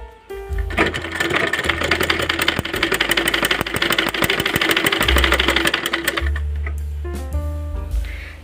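Sewing machine stitching fabric for a child's umbrella frock, a close continuous rapid clatter of about five seconds with a motor hum starting and stopping at either end.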